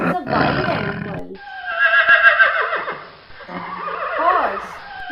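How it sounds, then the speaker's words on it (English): A horse whinnies loudly in a shaky, falling neigh, preceded by a shorter burst of lower sound, with no one speaking. "Horse."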